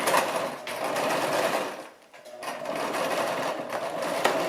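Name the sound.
Brother LX-3125 sewing machine stitching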